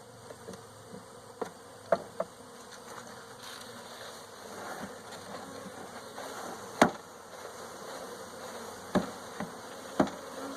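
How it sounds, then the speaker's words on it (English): A package of honey bees is shaken down into a hive, a faint steady buzzing swarm punctuated by several sharp knocks and thumps as the box is struck. "I'm just shaking these bees down in here"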